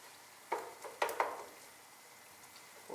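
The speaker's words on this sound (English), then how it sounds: "give me a moment to just stir this" Tomato paste and minced beef stirred in a frying pan, with a steady low sizzle broken by a few soft scraping strokes of the spoon near the start.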